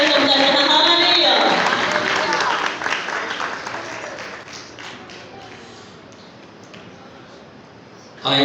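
Church congregation applauding a bishop's welcome at a Sunday Urdu-Hindi service, loud dense clapping for about two seconds that thins and fades under lingering crowd noise, with a brief burst at the very end.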